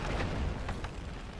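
Low rumbling booms from a ship under fire in the strategy game Anno 1404 Venice, a steady heavy roar with a couple of sharper bursts partway through, loud and continuous with no talk.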